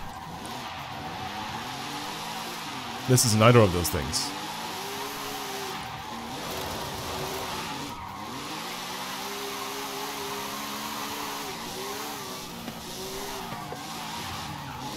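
All-wheel-drive car drifting in Forza Horizon, engine droning with rising and falling revs while tires squeal and skid, one sharp loud burst early on, with someone talking briefly over it.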